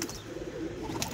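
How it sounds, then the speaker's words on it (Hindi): A large pigeon cooing close by, a soft, low, rolling coo that carries on through the short moment with no voices. "और बहुत ही बड़ा कबूतर है ये"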